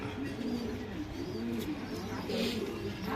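A male breeding pigeon coos softly in repeated low, throaty phrases, close by and quiet, with no talking over it.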